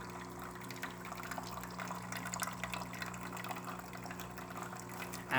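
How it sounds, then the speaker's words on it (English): Water streams steadily from the spouts of a DeLonghi Prima Donna S Deluxe espresso machine, a continuous close splashing trickle over a low mechanical hum, unbroken for the whole stretch. "Good water flow coming out of the spouts"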